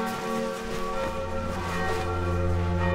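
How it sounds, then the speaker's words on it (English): Village church bells ring steadily for three seconds, their tones layered and sustained with a rich, resonant hum, no voices present. "The village bells are ringing."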